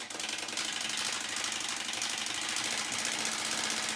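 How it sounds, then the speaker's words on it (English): A playing card held flat against the spokes of a spinning bicycle wheel rattles in a rapid, buzzing stream of clicks, close and steady like a small motor, with no talking. "holding that card in that flat position stuck into the spokes so that it makes the noise"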